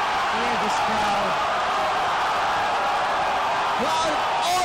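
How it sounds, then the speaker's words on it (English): Fans on their feet at the Rizal Memorial Football Stadium keep roaring after a goal in a Philippines versus Tajikistan qualifier, a broad sustained cheer with a few whoops rising out of it, under a commentator's voice. "Crowd on their feet."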